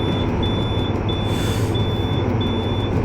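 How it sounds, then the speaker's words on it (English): A steady electronic warning beep pulses inside the cab of a TCDD DE 24000 diesel locomotive in Train Simulator, repeating at a regular rhythm over the constant low drone of the engine. "What's that beeping sound?"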